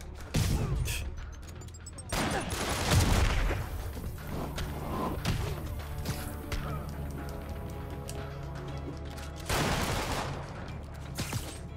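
Sporadic gunfire in the Spider-Man video game cracks out in scattered loud bursts at the start, middle and end, over a steady ambient background with faint voices.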